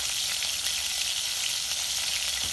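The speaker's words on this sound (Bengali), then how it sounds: "মাংস ভাজি" Meat frying in a pan, a steady close sizzle running through the whole moment without pause.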